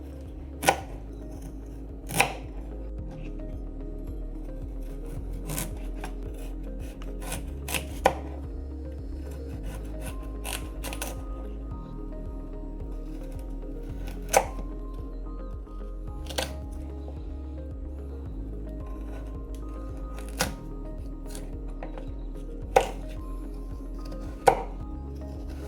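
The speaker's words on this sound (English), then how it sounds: "And now you will see me peel it and cut it to use it for our soup." A carrot is peeled and cut on a board for soup: sharp knife chops strike at irregular intervals, about a dozen distinct clacks, with soft scraping and rubbing between them under a low steady background hum.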